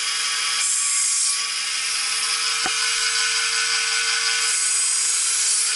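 A belt grinder with a worn 80-micron belt (roughly 240 grit) sharpens a carbon steel knife, giving a loud, steady abrasive hiss that runs unbroken through the whole stretch, with one brief sharp tick partway through.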